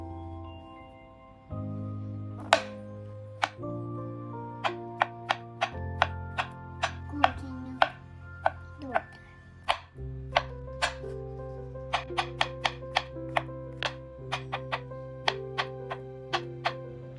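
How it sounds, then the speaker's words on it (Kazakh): Six large champignon mushrooms chopped into small pieces with a knife, producing a series of crisp, close knife taps on a board in an uneven rhythm over soft background music. "6 үлкен шампиньондарды үлкен емес бөліктерге тураймыз."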